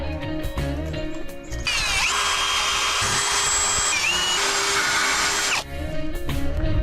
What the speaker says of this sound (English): I'm curious how it would clean up with a wire wheel.